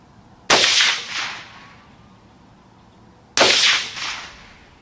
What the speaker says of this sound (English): And I actually did a double tap with this gun just to see if I could stay on target at 100 yards, a double tap.